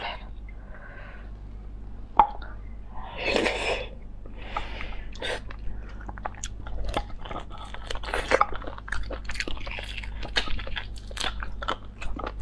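Close, crunchy biting and chewing of spicy beef bone marrow, with wet smacks and crackles repeating steadily in a quiet room, with no talking.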